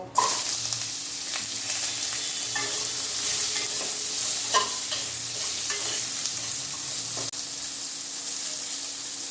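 Kohlrabi and radish stalks drop into hot oil with mustard seeds and dried red chilies, sizzling steadily and loudly while a utensil stirs and scrapes the pan with occasional sharper pops, without any talking.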